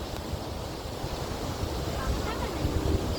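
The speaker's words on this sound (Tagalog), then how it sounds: "Yan pala yung naririnig ko kaninang lumalagaslas na tubig." Water rushing over a dam on a short hike near Kowloon Bay, a dense, steady roar with wind buffeting the microphone, continuous and fairly close throughout.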